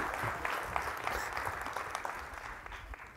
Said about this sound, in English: Guys, give everyone a round of applause.